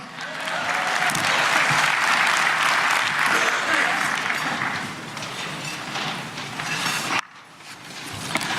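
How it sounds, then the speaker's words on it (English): Loud audience applause at the DeKalb County State of the County address, a full burst of clapping that gradually thins out, then cuts off abruptly as a voice begins speaking. "Round of applause for the first daughter."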